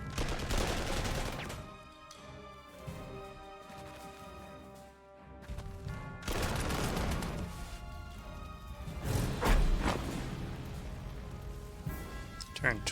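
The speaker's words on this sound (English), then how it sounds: "A little bit of cannon bombardment. A little bit of fire from the strong point." Cannon bombardment and gunfire from the strategy game Panzer Corps 2: repeated loud booming blasts and crackling shots in irregular bursts, with a voice talking at intervals.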